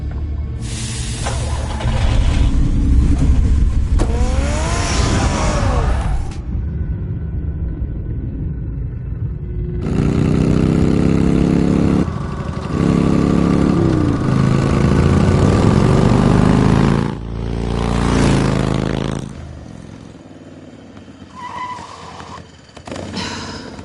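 Car engine in a Batman video game revs up loudly in repeated surging bursts, with rumbling low drone and rising pitch sweeps, pausing between revs and fading near the end; no talk.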